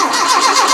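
An old Land Rover 90 left unused for four years being cranked over, a steady loud whirring spin of the starter and engine with no firing, close up and without talk.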